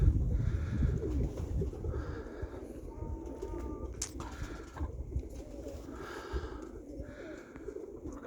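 Roller pigeons coo in soft repeated phrases, fairly close, over a low rumbling outdoor background, with a brief higher chirp partway through.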